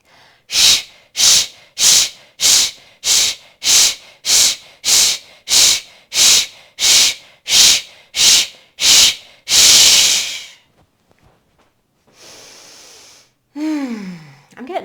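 Deep, rapid rhythmic breathing during a breathing exercise, about fifteen forceful breaths in a steady pulse, close and loud, ending in one long exhale followed by quiet, a faint hiss and a brief rising sound.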